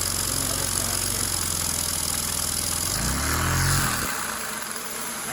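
Small engine running steadily at a high, buzzing pitch, then briefly revving up and dropping back to a lower idle, loud and close with no talk.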